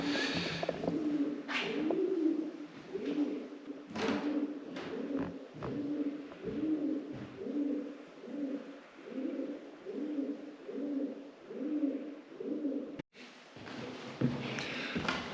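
Pigeons coo repeatedly in the roof of an old engine house in a soft, rhythmic series of low calls, close by and echoing slightly, with no talking.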